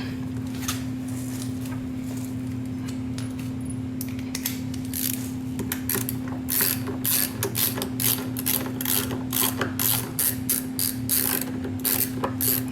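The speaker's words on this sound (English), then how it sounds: "if you got a 10mm wrench on there with an extension" A 10mm ratchet wrench with an extension tightens the front brake caliper bolts on a scooter, giving quick clicking pawl ratchets close up, sparse at first and then in steady repeated strokes over a constant low electrical hum.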